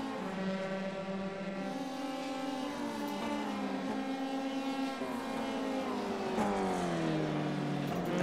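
F3 race car engines in an iRacing simulation wail in high, harmonic tones that climb and shift with gear changes, sustained and fairly close with no talk over it.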